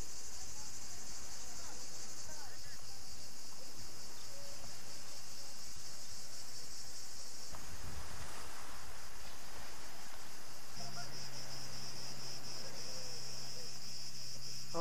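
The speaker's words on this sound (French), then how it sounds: "Entendez-vous les grillons?" Crickets chirp in a steady, high, continuous trill on a Greek island in the Saronic Gulf, fairly close and even, with faint wind and a low rumble of a passing boat or vehicle in the background.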